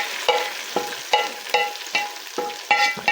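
Green chillies and onions sizzle in a frying pan for a haleem tadka, with about eight brisk, evenly spaced stirring scrapes over a steady crackle.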